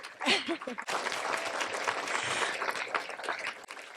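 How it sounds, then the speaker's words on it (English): Applause from the crowd at a 2023 Leadership Kitsap 20 under 40 awards ceremony, a few seconds of steady clapping that follows a short spoken voice at the start. "So give yourselves a round of applause"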